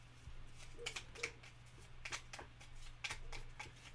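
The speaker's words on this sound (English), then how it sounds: "And then we will shuffle this out and make up a new season." Cards for the board game Parks are shuffled in several short riffling bursts, close and quiet, over a low steady hum with no talking.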